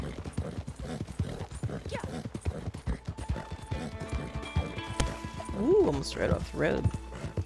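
Horse hooves clip-clop at a steady gallop along a road while riding in Red Dead Redemption 2, close and rhythmic, with occasional snorts and a person chatting over the hoofbeats.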